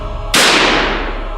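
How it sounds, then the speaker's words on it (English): Single loud gunshot effect in a forest horror story about hunting a wendigo: one sharp, close crack with a long noisy decay trailing off, no voices. "A loud gunshot rang out through the forest"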